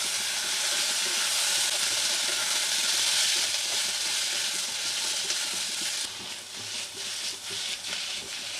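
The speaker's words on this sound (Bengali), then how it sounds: "এর মধ্যে আমি এবার বাঁধাকপি দেবো আর ক্যাপসিকাম দেব। হাই ফ্লেমে আমি টস করব।" Cabbage and capsicum are tossed in a hot pan over a high flame, giving a loud, continuous sizzle and hiss. Around the six-second mark it eases into quieter, choppy bursts as the vegetables are shaken.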